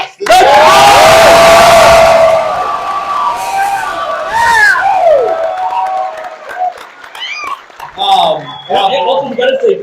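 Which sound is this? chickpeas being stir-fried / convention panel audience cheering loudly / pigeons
convention panel audience cheering loudly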